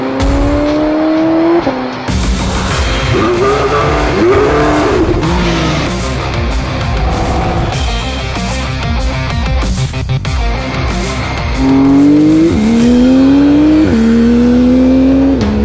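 A Porsche sports car of 700 horsepower accelerates hard and loud, with rising engine revs stepping through gear changes and sharp tire squeal mixed into the continuous roar, close and unbroken throughout.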